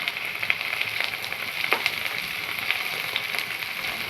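Raw prawns with curry leaves, turmeric and ginger-garlic paste frying in a pan, giving a steady, moderately loud sizzle with small crackling pops throughout and no voices.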